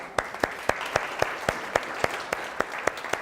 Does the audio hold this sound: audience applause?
yes